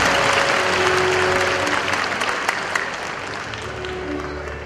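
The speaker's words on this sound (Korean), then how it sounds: "우리 의원님께 다시 한번 큰 박수 부탁드리겠습니다" Audience applause at a commemorative ceremony for a historic figure's 800th birth anniversary in Andong: dense, sustained clapping from a crowd that slowly tapers, with a faint voice underneath.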